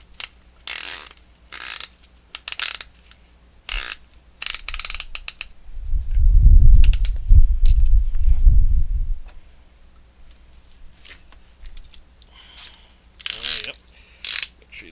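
A hand ratchet clicks in quick repeated bursts while tightening a piston ring compressor on an IH 584 tractor engine, close and sharp, with a louder low rumbling stretch midway.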